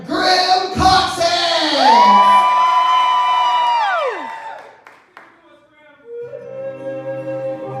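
Concert crowd yelling and cheering as a guest is brought to the stage at a Brat school night, loud at first and then fading, with an announcer's voice over it.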